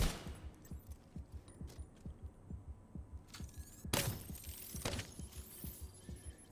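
Gunfire in The Division 2, with a rapid, rhythmic burst of shots pulsing steadily for several seconds, then a louder, sharper crack near the end as a headshot lands, mixed with game effects and no talking.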